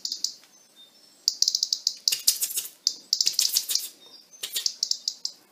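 A robin gives repeated sharp, rapid ticking alarm calls in bursts, high-pitched and close, with short pauses between volleys.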